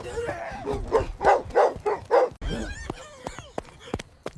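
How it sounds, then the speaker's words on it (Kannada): A dog barks repeatedly nearby, a quick run of loud barks, then scattered clicks and rustling as it trails off. "ಒಂದ್ ನಾಯಿ ನನ್ನ ತರ್ಸ್ಕೊಂಡ್"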